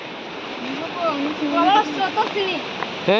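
Water rushing steadily at Furli Jharan waterfall in Kalahandi, a continuous broad roar with people talking and calling excitedly over it throughout.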